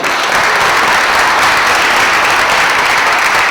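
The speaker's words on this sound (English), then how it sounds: "Nice round of applause for Wendy." An audience at a school address bursts into loud, sustained applause, dense clapping filling the room steadily from start to finish.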